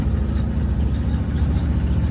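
A four-gear tractor engine running, a loud, steady low rumble close by with an even idling throb and no talk.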